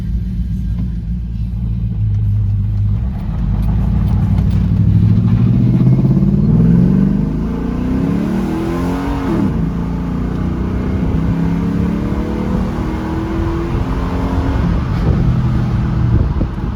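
A 1982 GMC Squarebody pickup with an LS 5.3 V8 drives along, its engine rumbling loud and steady from inside the cab, rising and falling in pitch as it accelerates and shifts, with no talking.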